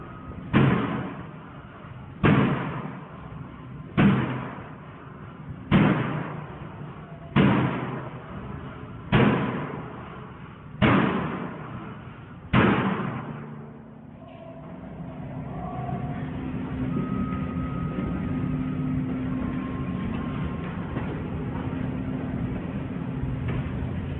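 A series of eight heavy door slams at an even pace, each a sharp loud thud with a short decay, followed by a low rumbling, rattling background.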